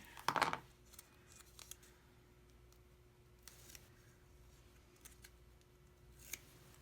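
Scissors snip a small piece of tape off a folded cardboard box corner: one sharp, close cut near the start, followed by faint scattered rustles and small ticks in a quiet room.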